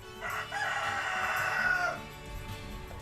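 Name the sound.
free-range hens and rooster crowing on a farm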